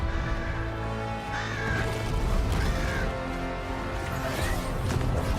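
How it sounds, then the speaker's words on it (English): A crow caws several times in God of War over steady game music and mechanical background noise, and the calls stand out clearly at a moderate distance. "The crow."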